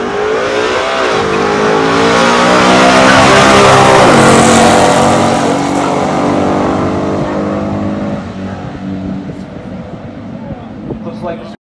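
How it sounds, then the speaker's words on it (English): A 1969 Corvette 427 L88 and a 1968 Dodge Super Bee 426 Hemi drag race in a pure stock event, engines roaring loud and sustained as they accelerate and shift. A commentator talks over the noise. "Johnson in the left lane, L88 Corvette, a monster."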